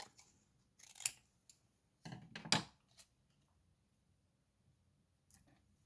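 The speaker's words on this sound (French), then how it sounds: "Je vais couper le surplus." Scissors snip off excess paper or card in several short, crisp close cuts spaced irregularly, with a pair of quick snips in the middle and a faint final click after a quiet pause.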